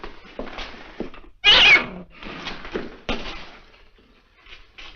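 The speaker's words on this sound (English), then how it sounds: "Our cat had kittens and they're all over the place." Cat meowing among a litter of kittens indoors: one loud, near meow bursts out alone, with a few softer mews and rustles before and after it.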